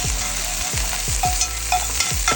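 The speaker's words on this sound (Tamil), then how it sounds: "இதில் இஞ்சி பூண்டு பேஸ்ட் போட்டு நல்லா ஃப்ரை பண்ணணும்." Ginger garlic paste frying in hot sesame oil, a steady close sizzle with repeated stirring scrapes recurring about every half second, no voices.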